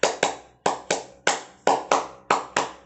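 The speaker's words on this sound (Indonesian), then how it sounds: "Tepuk 1, tepuk 2, tepuk 3." Children in a classroom clap a rhythmic pattern in unison, with crisp, loud, close claps grouped in pairs and singles that repeat in a steady beat.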